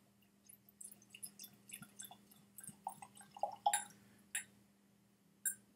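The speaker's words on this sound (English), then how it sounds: "Pour it into a nice clean Glencairn right here." Scotch whisky is poured from a small bottle into a clean Glencairn glass, a soft trickle broken by faint drips and small clinks against a low steady hum. No voices.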